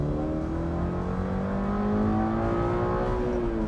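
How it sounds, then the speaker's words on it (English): A Toyota GR86 engine revs up steadily from inside the car, a smooth climbing drone that holds loud and continuous for a few seconds with no talk over it. "I'm allowed to rev it out."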